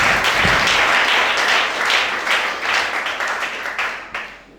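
A church congregation applauds in a dense, loud burst of clapping that holds steady and then gradually fades out.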